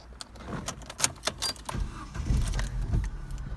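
Opel Vectra B with a BRC Sequent gas installation starting up, keys rattling and starter clicks followed by the engine catching and running at a low rumble, close by.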